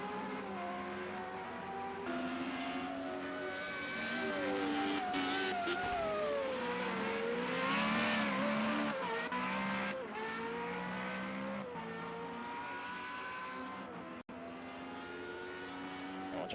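Formula Renault race cars in Project CARS at the Zhuhai circuit, a loud continuous high-pitched engine whine rising and falling through gear changes as cars race past, with brief tyre squeals and no speech.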